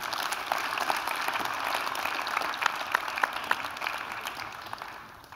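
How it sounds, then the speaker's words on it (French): Sustained audience applause at a literary conference, a steady dense wash of many hands clapping with a few sharper individual claps standing out, fairly near, and no voices over it. "Marie Brugière, on l'applaudit, mesdames et messieurs."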